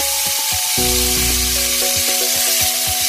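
Shrimp searing in a hot pan, giving a bright continuous sizzle. Sharp clinks and scrapes of utensils break through it repeatedly, and a tonal hum sits under the sizzle for the whole clip.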